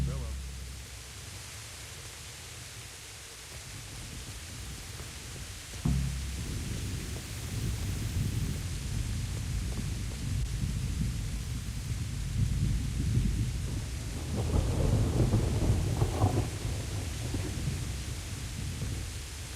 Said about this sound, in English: Look at that rain.